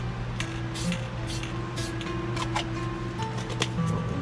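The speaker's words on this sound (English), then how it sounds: "We're going to spray it over that white." Blue spray paint hisses onto white paint on a chainsaw-carved wooden piece in several short and longer bursts, heard over a steady low hum.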